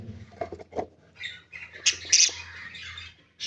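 Caged rescued baby birds give shrill squawks and quick chirps close by, in short irregular bursts over a low steady hum.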